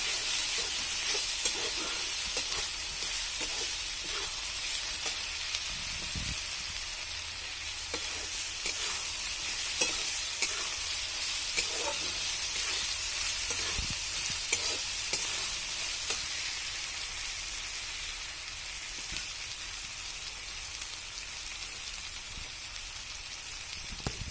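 Spices sizzling in hot oil for a phodni tempering, with masala being roasted for a rustic egg dish: a steady, close, crackling hiss runs the whole time, broken by occasional sharper pops and light stirring clicks, with no talking.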